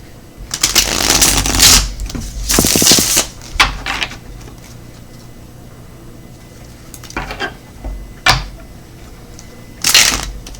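Tarot cards being shuffled in several brisk bursts of riffling and flicking, close and crisp, with quiet gaps between shuffles.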